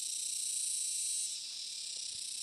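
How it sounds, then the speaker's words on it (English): Steady, high-pitched continuous buzzing drone of cicadas outdoors, constant throughout and fairly faint, with no talking. "You hear the cicadas?"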